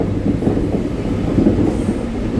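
A new Buscarril rail car rolls along the tracks with a loud, steady low rumble and faint rhythmic clatter, heard close from inside the car with no talking.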